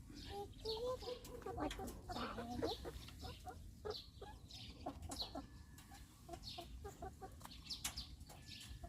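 Backyard chickens cluck and chatter steadily while being fed vegetables and bananas on a farm, a busy close flock with continuous overlapping clucks and some faint background noise.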